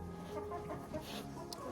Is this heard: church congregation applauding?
no